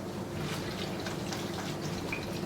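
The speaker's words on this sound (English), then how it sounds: "So we're washing the kale" Organic kale being rinsed in a bowl of vinegar water, giving a steady, soft watery swish and trickle with faint drips throughout, close and moderately quiet.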